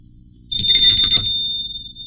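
A small hand bell rung once during a Buddhist teaching, a bright, clear ringing tone that starts suddenly, then sustains and slowly fades.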